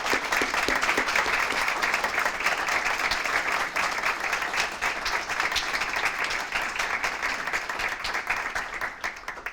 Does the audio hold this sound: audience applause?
yes